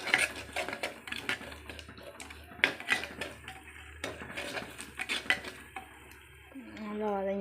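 Utensil scraping and clanking in an oiled pan while a fish curry base is sautéed and stirred, with irregular metallic knocks and a soft sizzle underneath, close and moderately loud.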